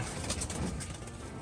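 Low, soft cooing of black pigeons murmurs steadily through a dense bed of background noise, with no clear pauses.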